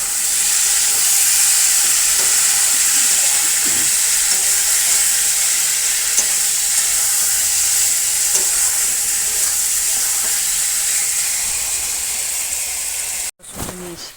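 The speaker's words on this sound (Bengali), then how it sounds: "এখানে মাংসর মতো মশলাটাকে কষানো চলছে।" Spice masala fries and is stirred in a pan on a village clay stove, a loud continuous sizzle with occasional scrapes of the spoon, close up with no talk, cut short near the end.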